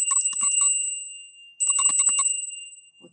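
A small hand bell rung in two quick bursts of bright, metallic jingles, close and clear, each burst decaying into silence.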